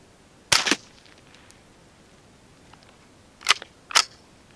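CCI Quiet .22 LR rounds fired from a rifle at a target: three short, sharp cracks stand alone, one near the start and two close together near the end, with quiet between them.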